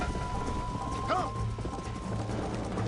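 A horse's hooves clip-clop at a gallop in the Red Dead Redemption video game, with a brief whinny partway through over faint background sound.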